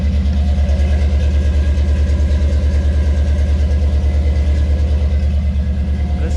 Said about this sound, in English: It's a little cold-blooded, so it's going to idle a little higher.